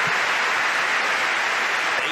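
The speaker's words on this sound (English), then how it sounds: "And listen to that crowd." Large arena crowd at the 2017 World Table Tennis Championships applauds during Fan Zhendong versus Ruwen Filus, a dense, steady roar of clapping with no pauses.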